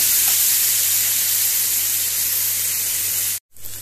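Chicken fries in a pan for Goan-style dry butter chicken with pepper and garlic, a loud, steady spray-like sizzle that holds evenly before a sudden short cutoff and a softer return.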